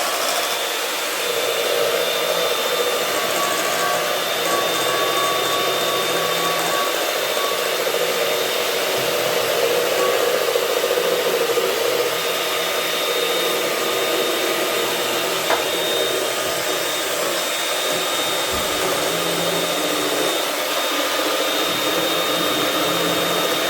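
An electric mixer runs at top speed, whipping egg yolks with hot syrup for a cheesecake, producing a loud, steady, unbroken high whir that lasts the whole time with no talking.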